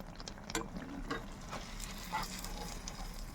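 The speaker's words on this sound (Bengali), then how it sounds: "বেগুন দুটো ভাজা হয়ে গেছে এবার এগুলো আমরা তুলে নেব" Battered eggplant slices (beguni) fry in hot oil with a faint, steady sizzle and occasional scrapes and taps of a slotted spoon in the pan.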